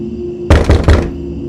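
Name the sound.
loud knocking on a door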